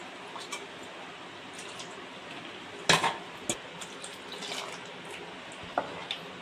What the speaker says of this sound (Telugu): ఈ మిక్సీ జార్ని కడిగిన నీళ్ళు కూడా వంపుకోవాలి